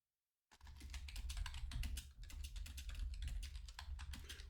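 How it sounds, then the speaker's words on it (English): Rapid clattering keystrokes on a computer keyboard, steady and close, with irregular clicks running continuously after a brief silent start. "sorry about the typing"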